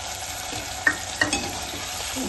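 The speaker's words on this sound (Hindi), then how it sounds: "अब इसमें जरा सा पानी डालूंगी और टमाटर।" A frying pan sizzles steadily as a little water and tomato go into it while cooking Sindhi methi rice with potatoes, with a couple of brief stirring clinks over the constant hiss.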